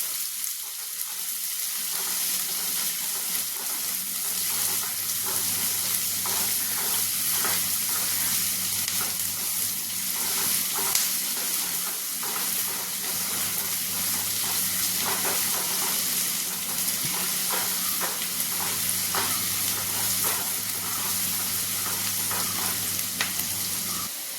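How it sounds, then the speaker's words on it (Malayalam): Onions sauté in oil for a tomato kurma, a constant close sizzle with soft scraping and stirring taps running throughout at an even level. "സവാള നല്ലതുപോലെ ഒന്ന് വയറ്റിയെടുക്കാം"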